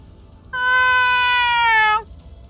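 A single long, drawn-out meow lasting about a second and a half, imitated by a human voice rather than made by a real cat, close and loud against a quiet background.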